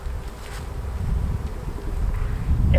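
Honeybees buzz around an open hive during frame work, a steady low hum that builds slightly in loudness over a few seconds, with no voices.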